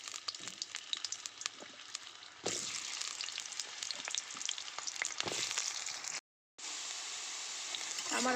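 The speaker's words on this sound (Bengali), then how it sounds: "তেল দিয়ে ওই আলু কেটে রাখা আলুগুলোকে ভেজে নেব" Cut potatoes frying in oil in a wok, a soft crackling sizzle with scattered pops and stirring clatter, growing louder partway through, with a brief dropout near the end.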